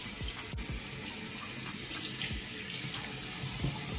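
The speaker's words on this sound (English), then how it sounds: "Let me wet my face real quick." Water runs steadily from a bathroom tap into a sink while someone splashes it on their face, a continuous close hiss broken by a few soft splashes, with no talking.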